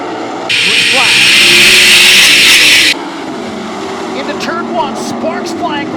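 Sprint cars on a speedway charge off a green-flag restart at the Brad Doty Classic, a loud roaring burst of engines for a few seconds before the sound drops back to a mix of crowd, announcer and distant engine whine.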